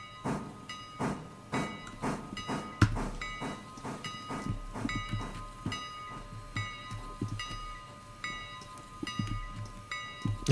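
A train with a coach and caboose runs in the railroad video game Railroader, giving a steady rhythmic chug with repeated clanks, a low rumble and occasional hiss.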